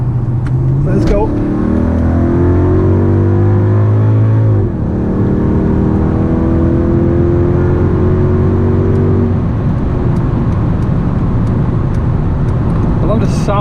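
A powerful 500-horsepower Ferrari engine revs loudly up and down, then settles into a sustained roaring drone, close and dominant throughout.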